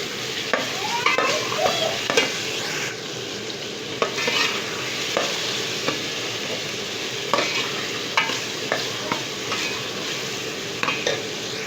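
Ground onion paste and potatoes fry in a pan with a continuous loud sizzle, broken by frequent scraping and clanking from a spoon stirring against the pan throughout.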